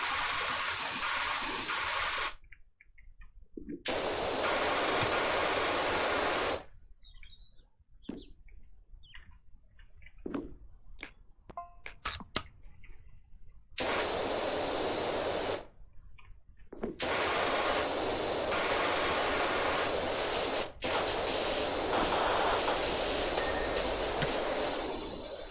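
A pressure washer sprays in PowerWash Simulator, long loud bursts of harsh hissing broken by abrupt silent gaps and a quieter stretch of small clicks and chirps, close and continuous while running.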